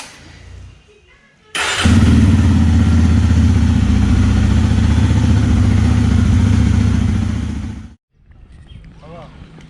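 A Jawa 42 BS6 motorcycle engine bursts into a loud, steady close-up idle for about six seconds, then cuts off abruptly, with quieter background sound before and after.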